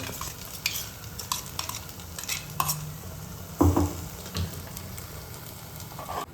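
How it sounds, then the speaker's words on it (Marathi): Masala frying and being stirred in a pan for kala mutton, a soft steady sizzle with scraping and clinking of the spoon against the pan, a louder stir burst midway, no talking. "तर मित्रांनो आपला इकडं मसाला फ्राय होतोय"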